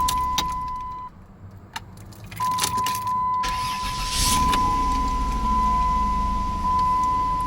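A 1999–2004 Dodge Caravan with a 3.3/3.8L V6 and a newly replaced starter fires up and settles into a steady idle, preceded by clicks and a key jangle, with a continuous door-chime beep running through.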